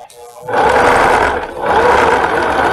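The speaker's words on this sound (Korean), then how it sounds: "박아줍니다." A sewing machine stitches fabric along a shorts seam with the presser foot lowered, starting abruptly into a loud, continuous whirring drone with a brief dip midway, no talking.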